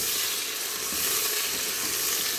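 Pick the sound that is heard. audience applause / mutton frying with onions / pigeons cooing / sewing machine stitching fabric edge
mutton frying with onions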